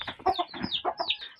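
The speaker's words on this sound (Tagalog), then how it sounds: "So ako na manok guys" A chicken clucks in quick, choppy bursts, close and fairly loud, with a few higher squawky notes mixed in.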